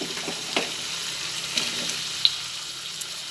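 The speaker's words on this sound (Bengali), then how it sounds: "আলুগুলো তেলের মধ্যে দিয়ে ভেজে নিচ্ছি।" Long-cut potato slices frying in hot oil give a soft, steady sizzle with scattered small pops and crackles, fairly quiet and close, with no speech.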